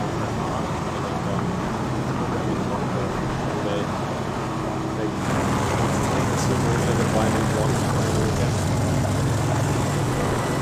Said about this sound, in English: That is a very loud plane.